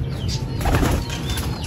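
Racing pigeons in training flutter past with a steady rush of flapping wings, fairly close and continuous, with faint bird calls mixed in and no talk.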